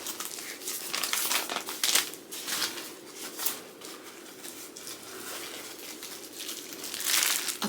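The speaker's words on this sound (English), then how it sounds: "A plastic bag." Continuous crinkling and rustling of a plastic bag, close and fairly loud, with irregular crackly bursts throughout and no voices.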